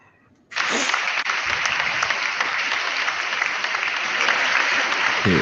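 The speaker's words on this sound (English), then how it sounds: "turn the applause" Applause sound effect played on a podcast: after a brief quiet start, a loud, dense burst of crowd clapping and cheering kicks in and continues steadily to the end.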